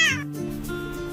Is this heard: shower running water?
no